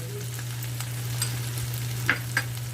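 Two spoons of homemade masala powder roasting in a pan for restaurant-style matar paneer, with a steady low hum under faint sizzling and a few soft spoon scrapes near the end.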